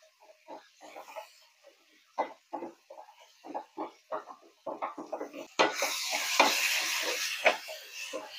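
Prawns with ground coriander, cumin powder and salt frying in a pan for a brinjal and prawn curry, soft stirring scrapes and sizzles at first, then a louder steady hiss of frying.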